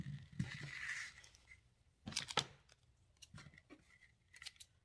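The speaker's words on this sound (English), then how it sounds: "Oh, come on, scissors." Scissors snipping through black tulle at close range, a few quick crisp cuts in separate bursts separated by quiet pauses, with no talking.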